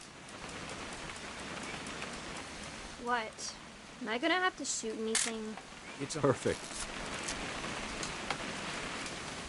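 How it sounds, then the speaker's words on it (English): Steady rain falls in the video game What Remains of Edith Finch, a constant hiss of drops on surfaces running throughout while several people talk over it in the middle. "It's gonna rain the whole weekend,"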